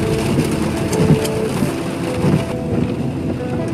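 Steady rain falls outdoors on a city night, a loud broadband wash of drops and hiss with some wind buffeting, continuous throughout with no one speaking.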